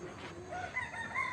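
Domestic chickens make brief squawks and clucks nearby in an open riverside village on a Sundarbans island, with faint background ambience.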